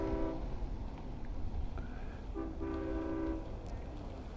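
A distant Long Island Rail Road train horn sounds in a few separate blasts at a crossing into an industrial yard in Westhampton, over a low rumbling background, faint and somewhat muffled.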